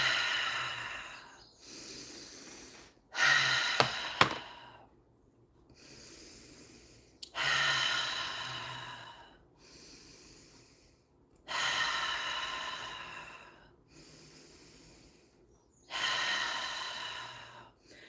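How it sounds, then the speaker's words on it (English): Guided deep breathing exercise: long, forceful inhales and exhales through the nose and mouth repeat about every three to four seconds, close and loud, with short quiet gaps between breaths and no talking. "Keep breathing."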